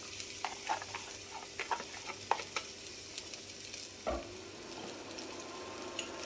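Onions sizzle in hot olive oil in a pan, a soft steady frying hiss broken by scattered clicks and a stirring knock, heard fairly quietly with no talking.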